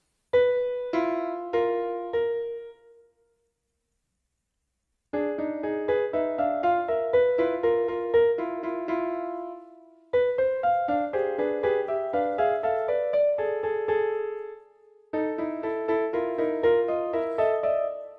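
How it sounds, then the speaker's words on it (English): A synthesized arpeggio melody plays in rippling, evenly spaced notes, in four phrases separated by short silences. "this one, which is arpeggios"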